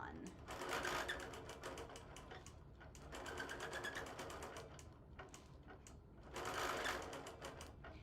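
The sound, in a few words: sewing machine quilting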